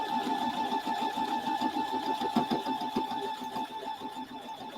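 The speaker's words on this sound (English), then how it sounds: "Yeah, it looks like I'm sewing." A sewing machine stitching a quilt block runs steadily and close by, a continuous whirring drone with a fast mechanical needle rhythm and no pause.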